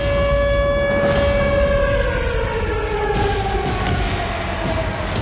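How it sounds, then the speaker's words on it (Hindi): A civil defense siren in Russia, sounded during a nuclear war drill, wails steadily with a slowly falling pitch, loud and continuous over a rumbling outdoor background. "परमाणु युद्धाभ्यास के दौरान पूरे रूस में सायरन बजे"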